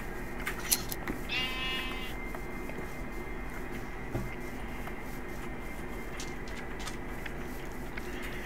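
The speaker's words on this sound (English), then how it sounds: "Oh, sheep." A sheep in the Minecraft video game bleats once, a short wavering cry, over steady low game background noise with scattered small clicks.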